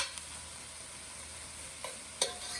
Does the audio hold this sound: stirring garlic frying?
yes